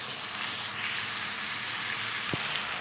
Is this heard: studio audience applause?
no